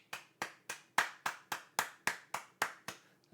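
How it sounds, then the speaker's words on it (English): About ten separate, evenly spaced claps, sharp and close, sound alone in a quiet room on a casual podcast, each with a quick fading tail, like a single person clapping slowly. "Can we get a round of applause?"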